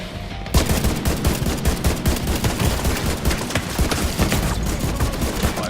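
Sustained rapid gunfire from the video game Division 2, dense overlapping automatic bursts and shots that stay loud and close for several seconds after a brief quiet start, with almost no talking.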